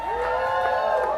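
A sustained cheer from a virtual audience in Comedy Simulator, many voices held together in one loud, steady tonal swell from start to finish.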